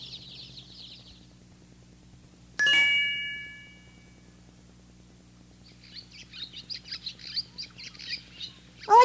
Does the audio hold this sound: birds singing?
yes